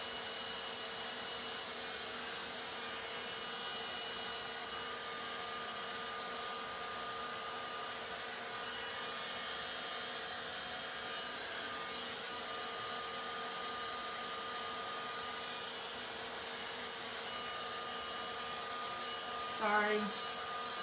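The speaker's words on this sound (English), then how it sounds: "this is a heat gun, and it's just blowing like hot air" Heat gun blowing hot air during a clay painting session, a steady broadband whooshing drone that holds for the full twenty seconds without pausing, with a short burst near the end.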